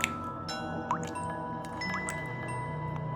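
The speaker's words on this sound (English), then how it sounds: "It started with a dripping sound." Water dripping in a dark, quiet room, scattered single drops falling at irregular intervals over a low, steady background hum.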